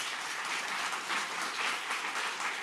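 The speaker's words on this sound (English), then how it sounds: "give him another round of applause" An audience at a September 2023 tech user-group talk on writing maintainable parsers claps steadily throughout, a dense, even applause at moderate loudness with no voices over it.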